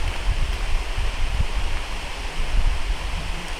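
Roos Falls waterfall pours in a steady, broadband rushing roar, close and continuous, with low rumbling gusts underneath.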